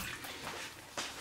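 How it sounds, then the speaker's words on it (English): Water splashes softly over hands before spreading sushi rice for spicy California rolls, a few faint wet swishes and one brief louder splash, close and quiet with no talk. "I'm going to get a little bit of water on my hands."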